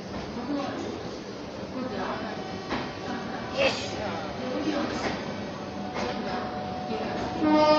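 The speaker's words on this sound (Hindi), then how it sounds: "और ये आ गई वाराणसी बरका काना डेमू स्पेशल ट्रेन।" A Varanasi DEMU special train pulls into a station, its steady rumble and rail noise carrying under ongoing talk, with a louder horn-like burst near the end.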